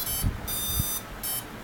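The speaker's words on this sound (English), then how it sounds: "That last one beep was actually the number of the ESC." Brushless ESC powering up on a modified I2C setup, giving a short series of electronic startup tones: steady high beeps of about a quarter to half second each, separated by brief gaps, with faint low thumps beneath.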